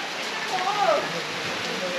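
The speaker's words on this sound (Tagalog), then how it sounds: "Nag-uumpisa na mag-ulan." Rain begins falling during a typhoon, a steady, close hiss of drops that covers the short clip without any talking.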